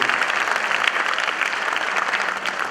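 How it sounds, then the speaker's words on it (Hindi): Dense, steady audience clapping fills the hall at a company anniversary gathering, a brief unbroken burst of applause with no voices over it. "बजाओ बजाओ, ताली बजाओगे"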